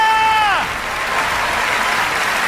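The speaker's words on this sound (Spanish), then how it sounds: "Denle un aplauso grandioso al Señor de señores" Church congregation breaking into loud, dense applause during a sermon, a sustained wash of clapping right after a voice's shout cuts off.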